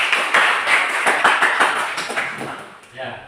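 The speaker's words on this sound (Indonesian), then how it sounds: "tepuk kita semua ya" A school class claps together in a group, with quick uneven hand claps ringing out over a few seconds while voices talk through it.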